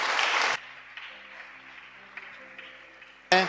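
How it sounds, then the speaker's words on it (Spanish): A church congregation bursts into applause during a Sunday service, a loud clatter of many hands that stops abruptly, followed by a quiet room with a low hum before a second burst of clapping starts at the end. "Le damos un aplauso a los hermanos en esta hora."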